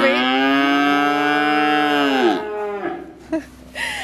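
A dairy cow in a herd lets out one long, loud, close moo lasting over two seconds that bends downward and fades, followed by quieter rustling and a short low grunt.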